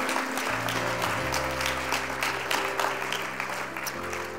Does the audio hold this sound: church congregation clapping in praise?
yes